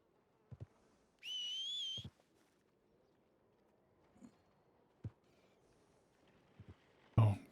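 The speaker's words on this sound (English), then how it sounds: "You do a big old long whistle." A game character gives a long, loud two-tone whistle to call a horse, standing out clearly against quiet background with a few scattered footstep-like thumps before and after.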